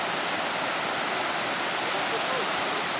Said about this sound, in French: Vous allez nous entendre parce que c'est extrêmement fort mais il y a une cascade de fou là.